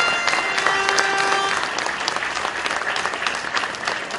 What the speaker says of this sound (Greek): Ένα χειροκρότημα για τις παρατάξεις που συμμετέχουν.